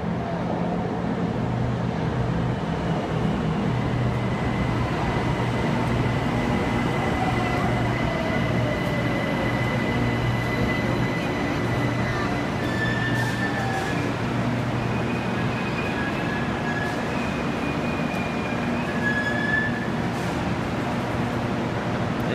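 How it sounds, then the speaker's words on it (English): A train pulls into an April station at a new shopping center, a loud continuous rumble of wheels on rails with squealing brake tones rising near the end, close by and alone. "the train's coming"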